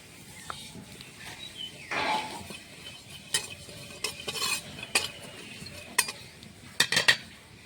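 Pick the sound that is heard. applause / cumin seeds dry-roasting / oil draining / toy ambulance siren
cumin seeds dry-roasting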